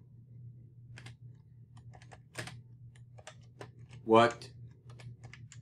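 Sparse keystrokes on a computer keyboard are typed into a programming assignment, scattered close clicks over a low steady hum, with a brief spoken word partway through.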